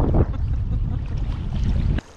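DIY inflatable raft driven by a 360-watt electric motor at full throttle, steady close rumbling water and wind noise that cuts off abruptly near the end.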